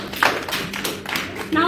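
Preschool children in a school classroom clap their hands in a few scattered, uneven bursts at close range, with a voice talking over them.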